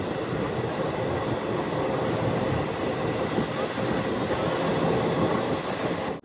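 A passenger train on the Nilambur Road to Shoranur line roars along in a continuous loud rumble of wheels and carriage noise, heard from inside and steady throughout, with no clear talking.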